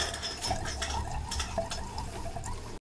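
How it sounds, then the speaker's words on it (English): Liquid chlorine is poured into a residential water well, a continuous splashing trickle with a few clinks, close and moderately loud, ending abruptly. "let's get to pouring."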